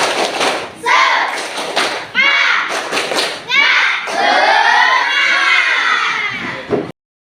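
Pupils in an Indonesian classroom perform the tepuk semangat chant, shouting rhythmic syllables together between bursts of unison claps and thumps, loud and close, in several call-like phrases.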